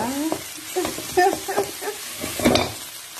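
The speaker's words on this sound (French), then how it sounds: "Il est temps de rajouter nos champignons. Il n'y a plus qu'à les mélanger avec les condiments précédents." Mushrooms sautéing with garlic in a pan are stirred up close, with repeated scraping strokes over a steady sizzle and no voices.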